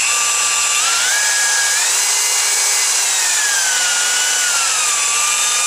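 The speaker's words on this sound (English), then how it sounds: "It is run by an electric motor that has what we call a speed control, so you can adjust your speed" A tube cutting machine driven by a speed-controlled electric motor runs loud and steady, its high whine shifting pitch slightly up and down throughout with no voices.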